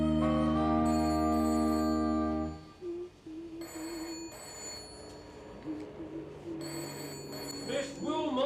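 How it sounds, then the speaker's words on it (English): An old-style telephone bell rings loudly in a few bursts, then stops and gives way to quieter indoor sounds and a short spoken word. "Will you answer that phone?"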